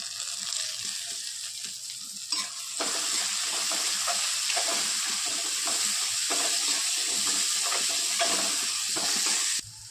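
Grated ginger and capsicum fry in a hot pan for a momo filling, giving a loud, continuous sizzle close up. Stirring adds scraping now and then.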